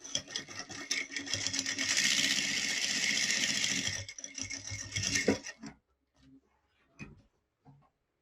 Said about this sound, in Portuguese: Vou desvirar e vou fazer uma costura aqui